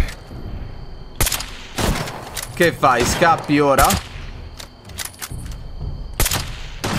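Bursts of enemy gunfire in the video game Fallout 76, sharp cracks scattered across the span with a couple of rapid volleys in the middle, mixed with someone talking over the action.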